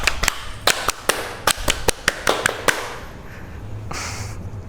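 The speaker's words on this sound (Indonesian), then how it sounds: "Jadi Tepuk pramuka." A rhythmic series of about a dozen sharp, close claps in the Indonesian scout clapping pattern (tepuk pramuka), spaced irregularly, then stopping and leaving faint room noise.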